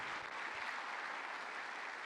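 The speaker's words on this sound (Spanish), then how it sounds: "dale un aplauso al Señor en fe, con todo tu corazón" Sustained applause from a church congregation during a sermon, many hands clapping together in an even, continuous wash, fairly distant and soft.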